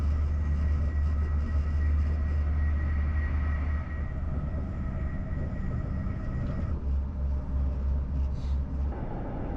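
A EuroCity passenger train rolling through the last stretch of Belgium toward the Netherlands, heard from inside as a steady low rumble and hum with faint rail noise, continuous and fairly loud, the tone shifting slightly partway through.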